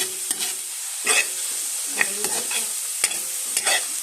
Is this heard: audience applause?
no